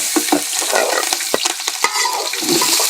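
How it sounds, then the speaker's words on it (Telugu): Onion, green chilli, coriander and curry leaves frying for pulao over a wood-fired stove, a close crackling sizzle with quick, irregular stirring scrapes and clicks, loud and continuous with no talking. "బాగా వేపుకుంటున్నాము"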